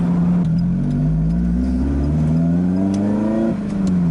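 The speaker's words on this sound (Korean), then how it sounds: "엔진도 그래서 터보가 아닌 슈퍼차저 했다는 거지." A supercharged Lotus Elise 250 Cup engine revs up smoothly, its hum rising steadily in pitch over a few seconds, heard close and loud with no talking.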